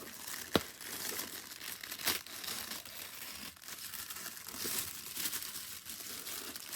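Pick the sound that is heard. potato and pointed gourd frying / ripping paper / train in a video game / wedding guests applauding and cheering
ripping paper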